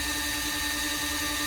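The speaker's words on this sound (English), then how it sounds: "I'm going to drill slow with low pressure just to get through that plexi" A power drill turns slowly at low pressure through plexiglass during a T2 IR module kit install, giving a steady, continuous whirring grind close to the microphone with no pauses.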